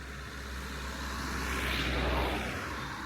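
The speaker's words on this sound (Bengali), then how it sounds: "সাউন্ড আছে গাড়িগুলোর, তাছাড়া কোনো সাউন্ড নেই" Cars pass on a road near Mattupetty Dam in Munnar, a low engine rumble swelling to a peak and fading as a vehicle goes by at moderate distance.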